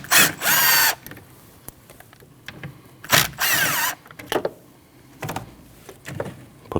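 Power tool driving T27 Torx bolts on the brake master cylinder reservoir of a 2013-2019 Ford Escape 1.5L, heard as short whirring bursts separated by pauses and scattered clicks, close by with no talking.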